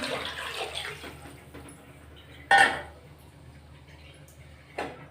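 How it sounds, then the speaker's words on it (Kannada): Water pours into a metal pot for a moment for cooking pulao, followed by a sharp clank and a softer knock of cookware. "ನಾನು ನಾಲ್ಕು ಕಪ್ ವಾಟರ್ ಹಾಕ್ತಿದ್ದೀನಿ"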